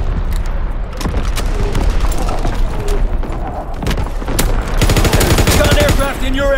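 Rapid World War II gunfire from Call of Duty WWII, with loud close bursts of rifle and machine-gun shots and a heavy volley near the end, mixed with radio-style voice callouts.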